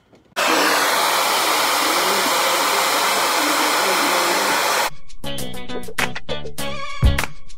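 A Conair hair dryer blows with a loud, steady rushing whir for about four and a half seconds, then shuts off as loud music with a heavy beat takes over.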